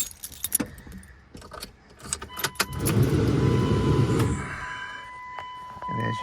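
A cold Dodge Dakota with the 4.7 engine, which has overheated and sat unused for days, cranks over and catches. A few clicks and clunks come first, then a loud, rough running roar that settles and fades.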